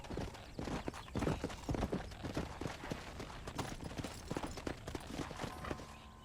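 Horse hooves clip-clop in Red Dead Redemption, a busy, continuous patter of hoofbeats near a stable, with other horses and faint rustling mixed in.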